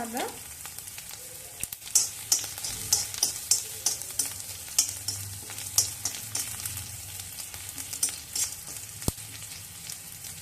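Panch phoron spices sizzle in hot mustard oil in a kadai, crackling and popping in irregular bursts over a steady frying hiss, with sharp clicks of a utensil against the metal.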